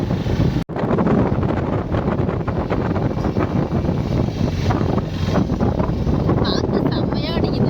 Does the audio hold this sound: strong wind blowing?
yes